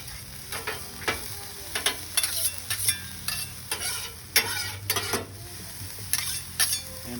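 Food sizzles and fries steadily on a hot griddle seasoned with Accent, with repeated scraping and stirring strokes of a metal spatula cutting through the constant frying hiss.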